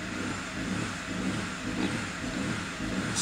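A Mercedes engine idles roughly in limp mode with its fuel supply to the injectors cut off because of a throttle body fault, giving a steady, close, uneven mechanical drone with no talking.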